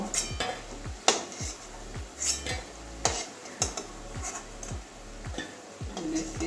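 Fried potato koftas are lifted out of a pan with metal utensils, giving a run of sharp clinks and taps in an irregular rhythm over a soft sizzle of hot oil, close and fairly quiet.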